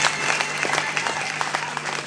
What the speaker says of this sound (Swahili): Sikia makofi kwa ajili yake jamani.